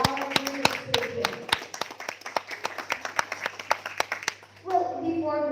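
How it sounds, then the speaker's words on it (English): An audience at a seminar session claps for several seconds, giving a dense patter of sharp hand claps. A voice starts speaking as the applause fades. "please give a big applause for our speaker"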